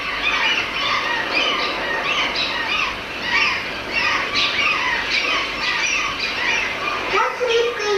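Seagulls squawking repeatedly around small islands, a dense overlapping chorus of harsh calls at close to moderate distance, with voices talking under the cries.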